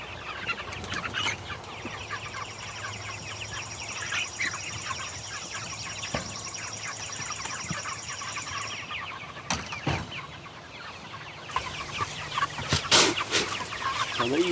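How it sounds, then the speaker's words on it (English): Meat chickens cluck on grassy pasture, with steady close clucking and calls from a busy flock, some rustling and brief knocks, and occasional higher bird chirps over a constant outdoor background. "So these are our first batch of meat birds we've got for the year."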